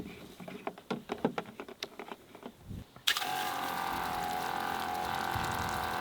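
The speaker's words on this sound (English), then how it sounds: "one Bianca shower coming up" A portable camp shower running off a small propane setup at a beachside campsite in Francois Peron National Park starts suddenly, a steady close hiss of spraying water after a stretch of soft tapping and clatter.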